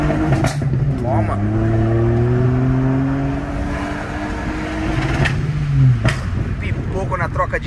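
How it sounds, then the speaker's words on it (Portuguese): A remapped Volkswagen Up TSI revs hard, its engine note climbing through the gears, with sharp exhaust pops and crackles at each shift, loud and close; voices may be faintly present. "Pipoco na troca de marcha."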